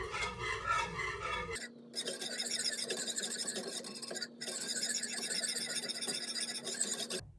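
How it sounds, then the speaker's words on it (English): A whisk stirs a thickening mixture in a pot, giving a steady scraping, rasping sound that runs continuously for most of the clip with a brief pause midway. "I'm going to continue to whisk it, stir it until it starts to thicken."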